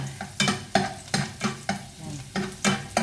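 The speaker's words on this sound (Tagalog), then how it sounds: "ilalagay muna natin ang bawang at hintayin natin mag golden brown." Garlic frying in a pan for pork humba, with a steady sizzle broken by repeated scraping stir strokes roughly every half second, close and moderately loud, no talking.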